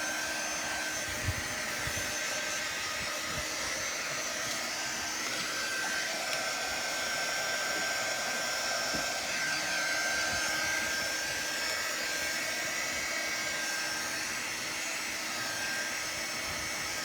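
A low-heat heat tool blows steadily on transfer paste on a pumpkin, a continuous airy whir holding at even loudness close by with no talk.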